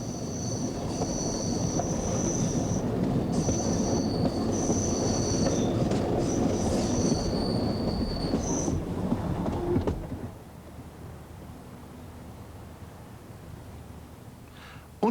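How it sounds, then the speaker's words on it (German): A tram on the Thuringian Forest tram line in Germany, running alongside a railway, rumbles steadily along the rails with high, ringing wheel squeals coming and going, then the noise drops away abruptly to a quiet hum. "Sie fährt ein Stück neben der großen Schwester Eisenbahn her."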